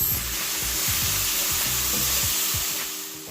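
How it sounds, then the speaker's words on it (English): Strained diced tomatoes hit a hot pan for one-pan sausage and pepper pasta, setting off a loud, dense sizzle with scraping stirs, close and steady before easing slightly at the end. "Add those strained diced tomatoes."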